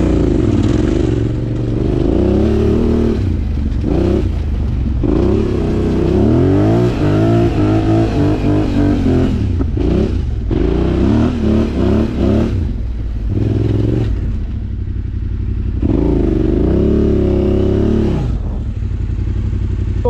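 A pit bike engine revs hard while climbing uphill off-road, loud and close, with repeated surging rises and falls in pitch as the throttle opens and eases, mixed with mechanical clatter.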